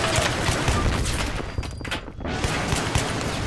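Sustained gunfire from a Battlefield 3 Conquest match in Operation Firestorm, a dense loud fusillade of rapid shots aimed across a rooftop, with a brief lull near the middle before the barrage resumes.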